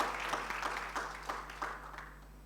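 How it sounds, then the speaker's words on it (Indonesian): A church congregation claps during Sunday worship, a short burst of fairly faint, scattered clapping that thins out toward the end. "Tepuk tangan bagi Tuhan Yesus."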